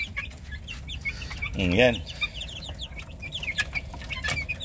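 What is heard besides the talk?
chicks and chickens clucking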